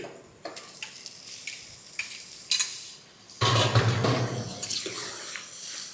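Mutton pieces drop into hot oil with softened onions for a gongura mutton curry, starting a loud, sudden sizzle after a few quiet clinks and scrapes of a spoon.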